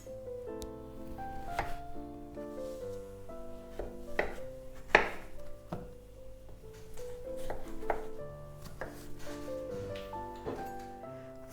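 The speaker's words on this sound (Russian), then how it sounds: "Один кабачок среднего размера я нарезаю небольшими кусочками." A knife taps repeatedly on a cutting board, chopping a medium zucchini into small pieces in an uneven rhythm over soft background music, fairly quiet and close.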